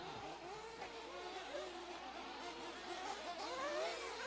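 A 1/8 scale nitro RC truggy engine whines and revs continuously during a race at a dirt raceway, pitch rising and falling as it accelerates, with other buzzing engines and faint background commentary.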